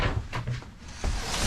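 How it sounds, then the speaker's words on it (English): A big, heavy wooden main hatch on a Seafarer 36C sailboat, above the engine access, is moved with a few hollow knocks and scrapes. The thuds are close and fairly loud, with a quieter pause in the middle. "Oh, big heavy wood hatch."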